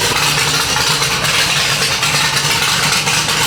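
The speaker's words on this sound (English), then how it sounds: "That Black Widow exhaust is pretty damn aggressive. Sounds like an old school trophy truck" Chevy C10 prerunner truck with a Black Widow exhaust gives a loud, close, throaty engine rumble that holds steady over a few seconds, with no voices.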